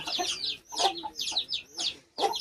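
Guinea fowl and chicks call close by in four rapid, chattering bursts of harsh, high clucks separated by short pauses, loud and without talk.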